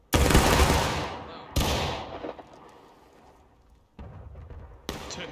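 Musket volleys from the War of Rights video game crash out on command in loud, broad bursts, each decaying slowly into a rolling echo, with several more volleys following at irregular intervals.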